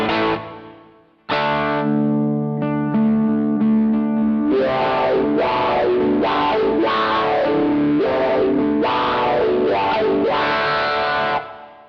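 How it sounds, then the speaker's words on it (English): Electric guitar on an overdriven bridge humbucker through a Plutoneium Chi-Wah-Wah pedal: sustained distorted chords, then a rhythmic sweeping wah that opens and closes repeatedly, loud and continuous with no talk. "Way more bass, sort of overdriven sound."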